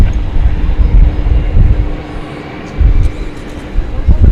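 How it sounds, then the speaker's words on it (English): Airbus A321 airliner of American Airlines, bound for Oklahoma City from DFW Airport at night, gives a steady broad roar with low rumbling surges, fairly close and constant, with voices talking over it. "It's an Airbus A321."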